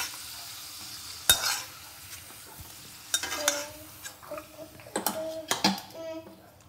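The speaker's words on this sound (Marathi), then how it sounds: "चांगलं फ्राय होऊ दे" Potatoes fry in a pan, a faint sizzle beneath sharp spatula knocks and scrapes that come in scattered bursts, louder toward the end.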